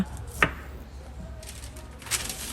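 Knife chopping cauliflower into small pieces in a home kitchen, two sharp close cuts about two seconds apart against a quiet background.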